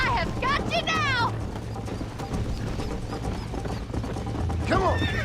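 A horse in the Red Dead Redemption video game neighs loudly near the start and again at the end, with clip-clopping hooves and someone talking in between.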